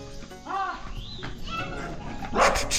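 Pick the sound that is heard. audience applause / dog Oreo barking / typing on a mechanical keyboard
dog Oreo barking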